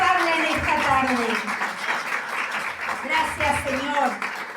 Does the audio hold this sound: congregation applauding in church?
yes